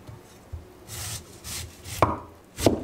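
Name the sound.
slicing pears with a knife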